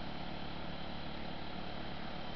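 A water pump engine at a gold panning highbanker setup, a steady, continuous hum with a dense, unchanging drone and no pauses, running close and fairly loud.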